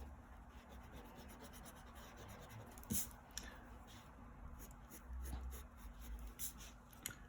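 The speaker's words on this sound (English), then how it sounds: "So I'm going to erase that line." Eraser rubbing out a drawn line on paper during a barn owl drawing, a faint, close scratchy rubbing with repeated short strokes and a few small taps, with no speech.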